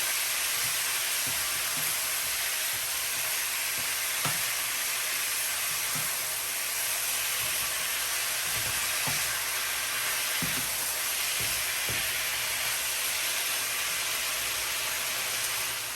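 Jamaican-style pepper steak frying in a pan, giving a steady, dense sizzle and hiss that runs throughout, with occasional faint stirring knocks underneath.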